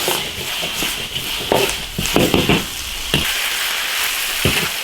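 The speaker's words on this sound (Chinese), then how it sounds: "泥鳅稍微煸炒一下" Loaches stir-fry in a hot iron wok with chili and Sichuan pepper, a steady dense sizzle broken by repeated scraping and tossing strokes of the spatula.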